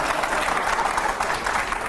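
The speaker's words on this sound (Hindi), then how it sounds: "चलिए ताली मारिए।" A studio or hall audience claps in a dense, even patter during an interview, moderate in level and steady throughout the short stretch, with no voices rising above it.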